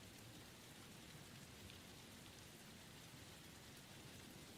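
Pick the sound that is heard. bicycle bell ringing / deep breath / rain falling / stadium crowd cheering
rain falling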